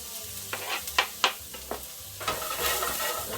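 Onions for jambalaya sauté in a pan as a soft sizzle under several sharp scraping stirs from a utensil, followed by a fuller, louder fry toward the end.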